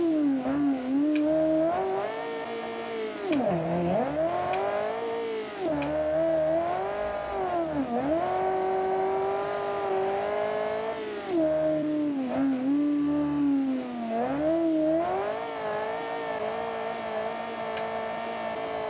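Car in the BeamNG driving game, a Kiev Motors 10, spinning its wheels on an uphill, with a steady strained engine whine that rises and falls in pitch throughout, loud and close.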